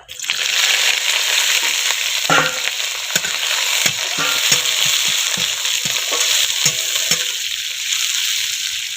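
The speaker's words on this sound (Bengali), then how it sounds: "পেঁয়াজগুলো একটু ভাজা ভাজা হয়ে যায়" Chopped onions fry in hot oil in a pan, a loud continuous sizzle with repeated scraping and knocking stirs of a spatula at an irregular rhythm, close by and without any voices.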